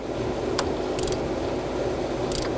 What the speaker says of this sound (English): Then we're going to torque these bolts to 70 inch-pounds and then an additional 90 degrees.